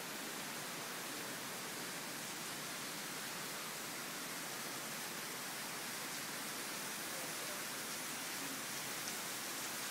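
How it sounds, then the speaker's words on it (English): Steady broadband hiss of rain falling close by behind a waterfall at Bee Branch, a dense, even wash of noise that holds unchanged and fairly loud throughout with no voices. "I'm gonna chill out a minute, see if it quits raining."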